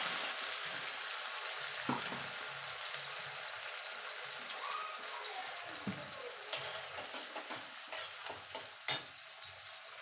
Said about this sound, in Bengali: এই মশলাটা মিনিট খানেক একটুখানি কষিয়ে নেব যাতে মশলার কাঁচা গন্ধটা চলে যায়